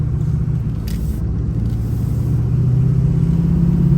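Ford 6.0 Powerstroke diesel pickup truck, with a reported fault, heard from inside while cruising near 40 mph at about 2,000 rpm: a steady, loud low diesel rumble with road noise and a slight rise in pitch toward the end.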